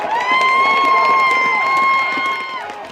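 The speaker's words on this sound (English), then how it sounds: "Here comes the crowd. It's playoff football. And you're going to hear some noise." Loud crowd cheering and roaring at a high school playoff football game at Carson Park, a steady sustained wall of voices with some shouts, holding for nearly three seconds before easing slightly.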